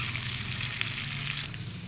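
Pork kaldereta with sitaw sizzles in a pan as the pan is moved, a close, steady hiss with a brief shift near the end.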